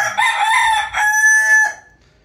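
A McLean gamefowl stag rooster, about five months old, crows once loud and close, its call rising and then drawn out into a long held note before trailing off.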